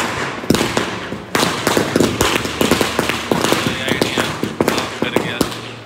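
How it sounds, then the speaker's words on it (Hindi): Diwali firecrackers go off in a rapid, uneven string of loud cracks and pops, close by and continuing throughout with barely a pause. "जितने पटाखे चलने थे वो चल गए"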